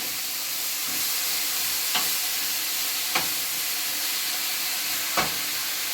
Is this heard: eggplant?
yes